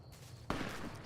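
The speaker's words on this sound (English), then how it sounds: "That's the cannon." A cannon fires in Fallout: New Vegas, Old World Blues, a sudden loud boom about halfway through that cuts in over a low hum and leaves a dense, rumbling roar trailing to the end.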